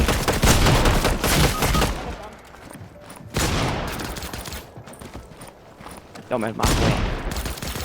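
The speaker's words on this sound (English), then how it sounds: "Somebody's shooting at me." Video game gunfire rattles in dense bursts at close range, with repeated shots broken by brief lulls, while someone talks over the shooting.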